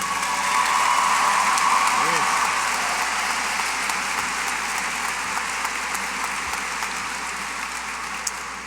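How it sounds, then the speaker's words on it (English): Graduating class and audience at the 2017 Maple Grove High School graduation applauding a student in a sustained, steady wash of clapping that fades slowly, with a brief voice sound early on. "One more round of applause, please,"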